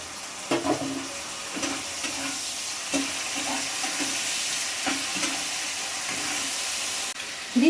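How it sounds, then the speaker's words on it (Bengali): Ginger-garlic paste dropped into onions fried golden brown, sizzling steadily in the pan with a constant hiss and soft periodic stirring scrapes, close and fairly quiet with no talk. "এবার দিয়ে দিচ্ছি আদা রসুনের পেস্ট"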